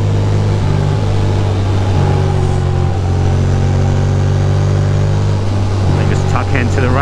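A Ducati motorcycle engine drones steadily as the rider accelerates out of a corner, with pitch steps from upshifts beneath constant wind noise and a talking voice.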